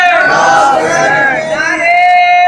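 A large crowd at a religious gathering loudly chants the Ya Hussain slogan in unison, voices swelling together in a sustained, roaring call.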